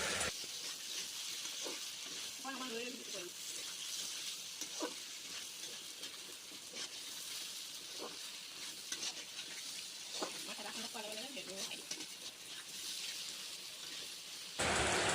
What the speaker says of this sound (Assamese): জাতিলাও কেইডোখৰ দিয়াৰ পিছত মই অলপ সময় লৰাই থৈছোঁ